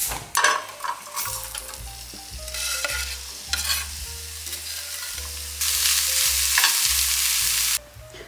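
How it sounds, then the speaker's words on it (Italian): Garlic cloves sauté in a little oil in a small pan. Bright frying sizzle and stirring scrapes swell to a loud, steady hiss over background music. "Mettiamo un po' di olio in una padellina e li facciamo soffriggere per circa 5 minuti."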